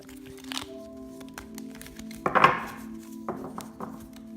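Oracle cards from an Coeur et âme deck are shuffled in a few short bursts of riffling and tapping, close and clear over a quiet background with a faint hum, the loudest flurry near the middle.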